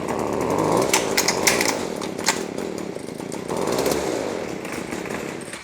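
A small engine runs at full choke with a steady, loud, buzzing drone and a rough rattle from the clutch. It dips slightly around the middle and swells again, with no talking.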